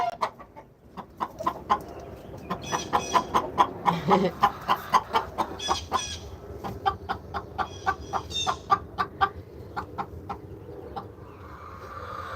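Several chickens cluck in a rough, irregular rhythm inside a coop, loud and close throughout, with an occasional louder squawk.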